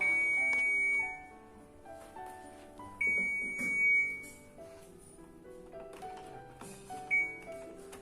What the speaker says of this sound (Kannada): ಟಬ್ ಕ್ಲೀನ್ ಎಲ್ಲ ಆದಮೇಲೆ ಅದು ಒಂದು ಬೀಪ್ ಸೌಂಡ್ ಮಾಡುತ್ತೆ.